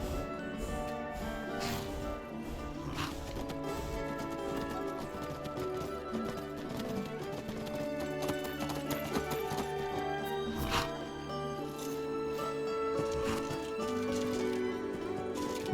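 A named horse in modded Skyrim (Beyond Skyrim Bruma) trots steadily, hooves clip-clopping in a continuous rhythm under a dense, loud music and ambience bed, with an occasional faint whinny.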